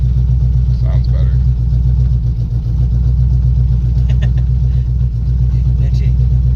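A Chevy squarebody drag truck engine rumbles loudly with a deep, lopey idle pulse close by, and a brief throttle blip stands out partway through, with people talking over it.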